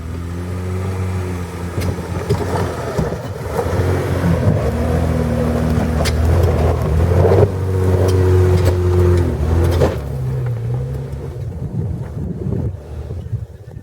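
A cheap trail Jeep with an NP242 transfer case drives a trail, with a steady engine drone and changing gear tones under heavy wind buffeting on the microphone. The engine note rises and falls, then thins out toward the end.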